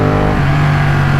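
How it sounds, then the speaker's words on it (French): A Ducati 1199 Panigale S twin-cylinder sport motorcycle engine drones loud and close, with a steady low pitch that steps down slightly partway through the short burst. "Ça fait vraiment le bicylindre quand j'accélère."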